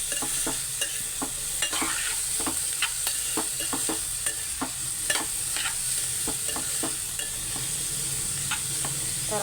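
Onions sauté in a pan until brown, a steady sizzle overlaid with repeated quick scrapes and clicks of a spoon stirring against the pan.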